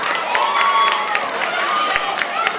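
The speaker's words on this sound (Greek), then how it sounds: "τους χειροκροτήσαμε" Audience clapping and cheering at a school bazaar put on by a primary school, lower secondary school and kindergarten, a steady wash of applause with crowd noise and scattered shouts through the whole stretch.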